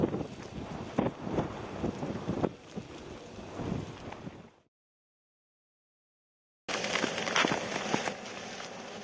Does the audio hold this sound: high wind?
yes